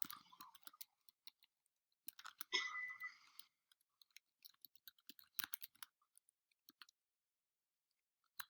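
Sparse, quiet keystrokes on a computer keyboard, with scattered clicks and taps and brief pauses between bursts of typing.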